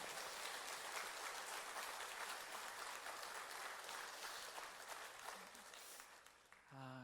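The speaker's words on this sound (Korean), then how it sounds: "우리 어르신들을 위해서도 박수 한번 더 하겠습니다" A church congregation at a Sunday worship service applauds the elders on Parents' Sunday, a steady wash of clapping that fades slightly before a voice cuts in at the end.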